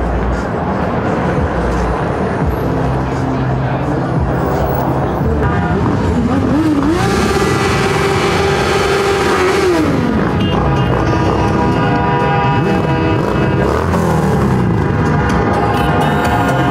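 Column of motorcycles riding through central city streets at a regional biker season-closing event, engines rumbling continuously with rising revving passes, loud and near throughout.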